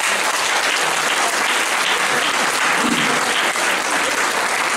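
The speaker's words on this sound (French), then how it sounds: "Donc je voudrais aussi que vous les applaudissiez." Dense, steady audience applause at a French gathering thanking a group of mediators, loud and continuous from start to finish with no voices standing out above it.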